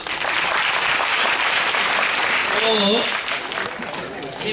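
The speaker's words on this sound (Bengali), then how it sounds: "ওর জন্য একটা হাততালি দাও" An audience at a school language-day celebration applauds a student with loud, sustained clapping, and a voice briefly cuts in over it near the middle.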